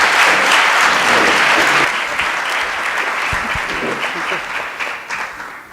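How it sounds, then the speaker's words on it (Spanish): An audience at a talk gives a strong round of applause, a loud, dense roar of clapping that gradually tapers off, with faint voices underneath. "comencemos con un fuerte aplauso"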